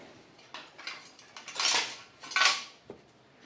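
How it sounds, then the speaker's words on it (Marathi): A spoon mixes flour and gram flour in a bowl for homemade sohan papdi, making soft repeated scrapes and clinks that swell into two louder sweeping strokes, close by with no voices. "आपण हे दोन्ही मिक्स करून घ्यायचं आहे"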